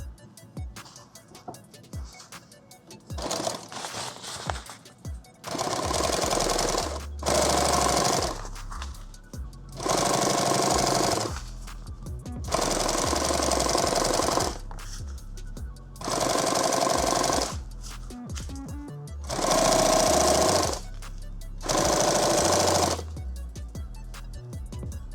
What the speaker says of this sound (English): Cut that thread. I'm not even sewing through thick stuff yet.